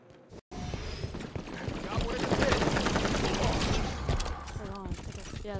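Gunfire in Halo 5 rattles through a firefight, dense bursts of shots and mechanical clatter building to a loud peak midway, with a player talking over the action.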